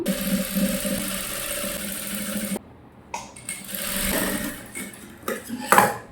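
A sewing machine stitching the neckline of a child's gown, a close steady motor hum that stops abruptly, then shorter uneven runs and handling noises, with no talking.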